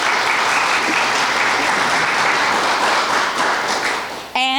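A press-conference audience for the Anderson Speedway Little 500 race festival breaks into loud, steady applause, a dense wash of many clapping hands held close and even for several seconds before trailing off abruptly.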